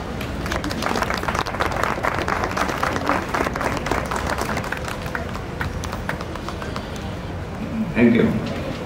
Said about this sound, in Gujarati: એમના છોકરાઓ હાજર છે, જો તાળીઓ પડી આટલી બધી.